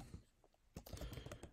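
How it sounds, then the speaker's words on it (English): Keys clatter on a computer keyboard as user credentials are typed into a web admin login page: a quiet pause, then a dense run of close, crisp keystrokes. "We can go and type in our user credentials from the previous video."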